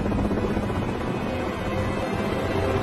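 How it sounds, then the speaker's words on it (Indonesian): Helicopter in flight in the film Tears of the Sun, a continuous throbbing rotor drone with low engine rumble, steady and fairly loud throughout. "Saat helikopter sedang di perjalanan"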